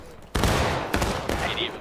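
Musket volley fire in the Civil War game War of Rights cracks out in several overlapping loud shots, a ragged fusillade with sharp onsets and echoing tails.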